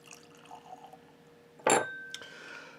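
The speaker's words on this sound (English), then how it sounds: "just one more pour" Knob Creek Barrel Strength Rye bourbon is poured into a glass in one short, close splash, with a faint clink of glass just after and quiet room noise before.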